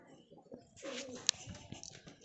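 A single pigeon gives a soft coo in a quiet space, with a brief sharp click partway through and faint rustling around it.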